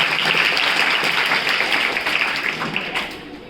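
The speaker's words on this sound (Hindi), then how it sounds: "तालियां बजाओ उसके लिए पहले।" Students in a school classroom applauding together, a dense burst of many hands clapping that starts strong and gradually thins and fades over a few seconds.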